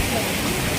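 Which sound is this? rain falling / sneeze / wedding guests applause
rain falling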